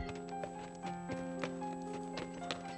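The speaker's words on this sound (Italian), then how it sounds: "Le zolle scorrevano rapide sotto gli zoccoli, mentre il cavallo fremeva impaziente." A horse gallops as hooves throw up clods of earth, with a few soft, uneven hoofbeats standing out over a steady tonal bed that stays at a moderate level.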